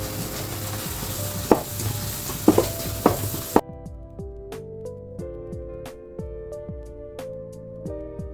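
Crushed ginger and garlic hit a hot pan for a drumstick curry, a few sharp clatters and a soft sizzle, after which the sound drops to quiet background with gentle tapping.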